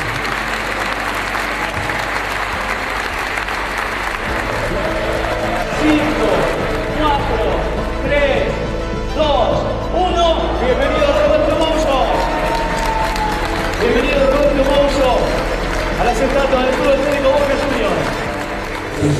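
A stadium crowd of Boca Juniors fans applauds at the unveiling of a statue of Roberto Mouzo. Sustained loud clapping and cheering roll on throughout while a voice speaks over the crowd.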